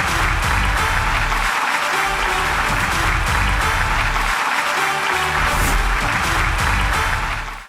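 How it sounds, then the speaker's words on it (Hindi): Crowd at a UCN Group smart IPTV app launch in Nagpur gives loud, sustained applause with dense clapping throughout, only briefly dipping before carrying on. "Will everybody give a huge round of applause?"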